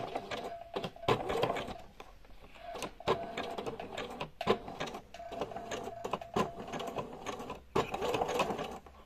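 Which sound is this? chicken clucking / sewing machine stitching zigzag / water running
sewing machine stitching zigzag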